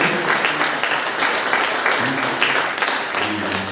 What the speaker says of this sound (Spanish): Un fuerte aplauso al Señor Joel